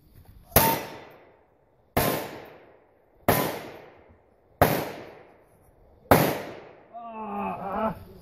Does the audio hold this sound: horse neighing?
no